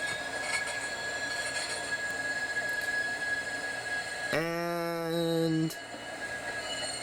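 A MAX light rail train grinds through the tight turnaround tracks at the end of the line, its wheels breaking into a loud, steady squeal for over a second, heard close over a constant rumble of the moving car.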